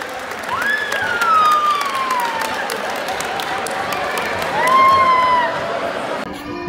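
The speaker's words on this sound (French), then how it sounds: "Une bonne bain d'applaudissements pour tous ces bénévoles" A crowd at a Saint-Jean-Baptiste celebration applauds and cheers for the volunteers, steady broadband clapping with rising whistles and whoops, swelling loudest near the start and again toward the end.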